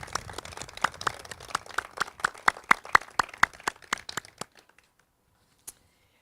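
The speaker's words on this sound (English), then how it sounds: "How about a round of applause for the great instructors and the community's up-and-coming emergency professionals." A small audience at an EMS student award ceremony claps for instructors and students: distinct, evenly spaced claps that thin out and stop after a few seconds, with one last stray clap.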